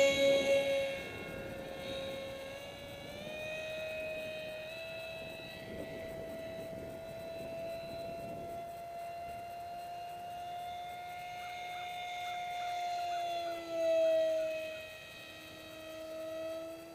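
An RC Super Alpha Jet plane with a Microjet motor flies at a distance, giving a faint, steady whining tone that drifts slowly in pitch and swells briefly as it passes nearer.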